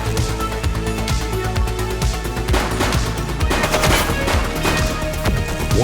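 Rapid bursts of gunfire in the Xbox Series X police game The Precinct, dense and continuous over a steady background of game music and ambience, loud and close throughout.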